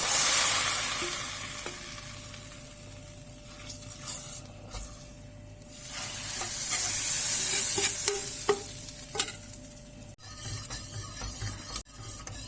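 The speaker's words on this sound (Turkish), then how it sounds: "Ve çorbamın üzerine kızarttığım tereyağını döküyorum." Hot fried butter sizzles and crackles as it is poured onto Çeşmi Nigar soup, a continuous hiss swelling and fading, with occasional clinks of a spoon or pan.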